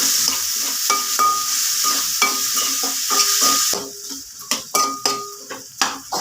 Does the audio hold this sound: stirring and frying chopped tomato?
yes